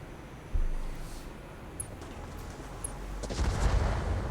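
Mech weapons fire in the Battletech Roguetech mod: a sudden low boom, then scattered sharp cracks and a heavier rumbling volley near the end, under a steady low background hum.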